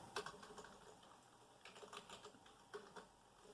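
Soft keyboard typing, faint and close, in short bursts of quick keystrokes separated by pauses, with no voices.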